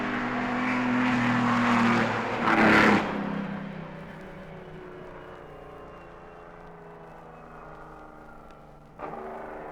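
A 1958 Mercedes 5.6-litre race car howls around the Oulton Park circuit, its engine note swelling loud and close as it passes, then settling into a steady distant drone before a brief burst near the end.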